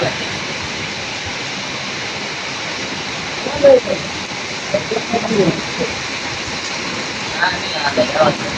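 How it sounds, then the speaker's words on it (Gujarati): Rain hisses steadily and evenly throughout, while a voice speaks in brief bursts during the second half. "તમે જોવો અત્યારે વરસાદ ચાલુ છે"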